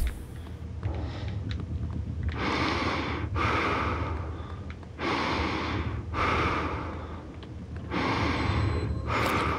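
Mimic creatures from the video game Prey give off repeated breathy, snorting bursts in a regular rhythm over a low ambient hum, moderately quiet and fairly close.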